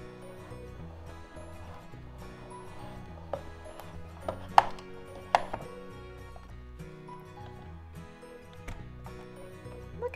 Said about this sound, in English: This is the sprinkle machine.